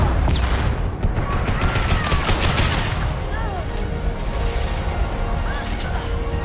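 Gunfire in the Mass Effect 2 video game: dense, continuous bursts of shots and impacts layered with game effects, loud and sustained throughout, with character voices calling out over the fighting.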